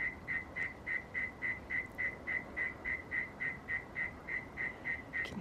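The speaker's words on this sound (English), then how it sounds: "You can hear all the crickets." Steady, regular chirping pulses at dusk under a full moon, repeating about three times a second with a faint hiss of night ambience behind, insects heard outdoors alone with no talking.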